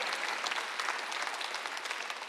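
Congregation clapping along during a Sunday worship service in church, a steady dense patter of many hands, fairly even and sustained, heard alone at moderate level.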